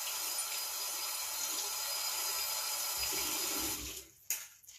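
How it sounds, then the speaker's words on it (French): A tap runs water into a sink during a skincare cleansing routine, a steady, close rushing that lasts about four seconds before stopping, followed by a brief clunk. "je vais faire couler un petit peu d'eau"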